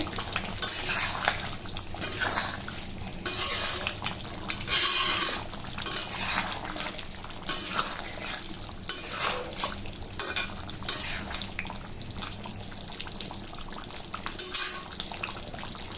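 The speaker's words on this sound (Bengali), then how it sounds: "এখন এটাকে আমি ভালো করে নেড়ে চেড়ে দেব।" Beef korma being stirred in a metal pot, with repeated clinks and scrapes of a spoon against the pot over a soft bubbling background, close and moderately loud, no talking.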